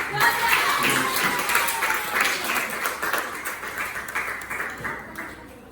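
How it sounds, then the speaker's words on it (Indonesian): A classroom audience applauding, a burst of scattered clapping that gradually thins out over a few seconds, mixed with faint murmuring voices. "berikan tepuk tangan"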